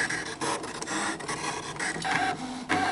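A Brother ScanNCut SDX cutting machine works steadily, its motor and carriage giving a continuous close whir and scratch with small rhythmic shifts.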